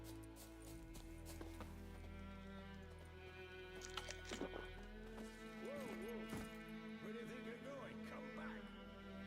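Horse hooves clip-clopping at a trot in The Witcher 3, a steady rhythmic beat under game music, with a voice talking partway through and brief neighs or snorts.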